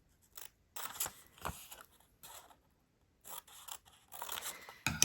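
Scissors snip through a sheet of paper at a craft table, cutting in toward a middle line in several short bursts of crisp crunching strokes separated by pauses, close and fairly quiet.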